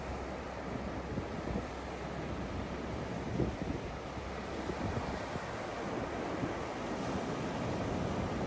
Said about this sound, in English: Waves are roaring and birds are chirping.